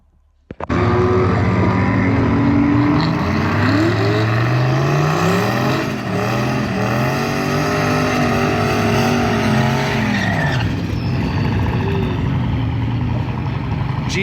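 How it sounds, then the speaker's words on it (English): A turbo LS drag race car engine roars at full throttle launching down the strip, its pitch climbing through gear changes as it accelerates hard, loud and close, with no talking. "You can see that on the pass, the car left real hard"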